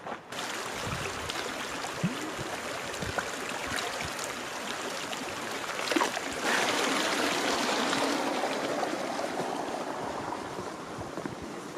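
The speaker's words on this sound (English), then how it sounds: "So I'm coming back down to that very first creek" A mountain creek on the Colorado Trail rushes and babbles nearby in a steady, broad wash of flowing water, getting slightly louder partway through with no voices.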